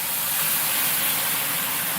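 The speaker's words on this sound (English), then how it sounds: "Listen to the sizzle" Constant bright hiss of broth sizzling in a hot pan while cooking crawfish etouffee, loud and close, with no talking over it.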